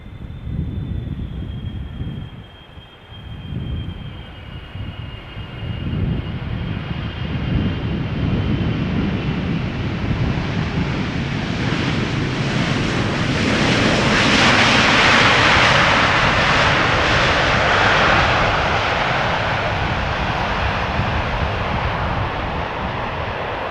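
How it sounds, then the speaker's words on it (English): A KLM passenger jet roars in to land at Schiphol Airport, its engine rumble and whine swelling steadily from a distant drone to a loud close pass, with wind buffeting the microphone. "And KLM Flight 744 is about to land."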